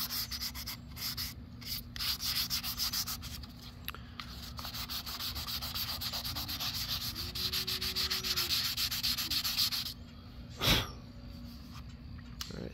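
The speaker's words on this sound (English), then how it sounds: "we are done sanding" Sandpaper rubs steadily back and forth over the surface of an Estes Hi-Flier XL model rocket in close, rhythmic rasping strokes, broken by a short pause and a single louder bump near the end.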